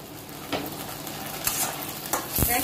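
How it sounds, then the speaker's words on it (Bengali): Chilli paneer being stirred in a frying pan, a steady sizzle broken by several distinct scraping stirs, close and moderately loud, with no talking. "তারপরে কিন্তু আমি একটু নাড়াচাড়া করে নিচ্ছি"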